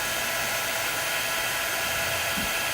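Hair dryer blowing a steady, loud hiss of air over a wet vintage flour sack, continuous and close without variation for a few seconds, no voices.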